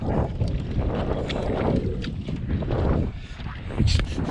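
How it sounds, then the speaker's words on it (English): Strong wind roars and buffets the microphone in heavy, uneven gusts, with water and a small Feelfree Dorado boat faintly beneath it, on Echo Bay, Nevada. "It's windy. It's very windy."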